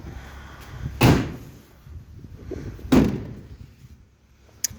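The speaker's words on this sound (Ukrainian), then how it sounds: "Зараз я відкрию задні двері." Rear doors of a Mercedes-Benz Sprinter 907 Extra Long van being opened in the evening: two solid metallic thunks about two seconds apart, close and loud, with small clicks of latches and handling between them, no talk.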